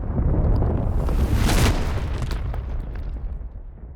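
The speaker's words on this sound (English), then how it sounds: "In the beginning, there was nothing," which exploded" A deep rumbling explosion builds to a broad blast peak around the middle, then decays into a fading roar, loud and close with no voices.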